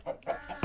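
Chickens on a Minecraft chicken farm give short, close game-sound clucks, several quick bursts in a row.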